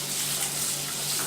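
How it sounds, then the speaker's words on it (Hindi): Fennel seeds frying in hot oil give off a steady, close sizzle with fine crackling, constant in level and without any talk over it. "सबसे पहले से मैं ये सौंफ डाल दूंगी, और जब कड़कड़ा जाएगी तो फिर इसमें आलू डाल देंगे।"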